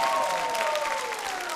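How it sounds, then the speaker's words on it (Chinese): A live audience claps steadily during a street-dance show on stage, producing a dense, continuous wash of applause. "那我们再次把掌声送给一波王家 Boom 战队"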